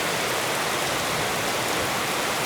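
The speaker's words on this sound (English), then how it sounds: "it's actually heavily raining right now." Heavy rain falling steadily during outdoor car repair work, a dense, even hiss of downpour filling the whole moment with no voices.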